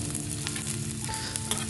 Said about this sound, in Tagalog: magigisa tayo ng bawang at sibuyas, kaya maglagay ulit ng oil